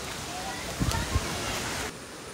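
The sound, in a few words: flowing stream at the temple entrance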